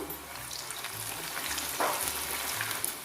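Onion vadai dropped into hot oil: a steady, close, dense sizzle with bubbling crackle that runs throughout, with a few small clinks of a utensil, no voices.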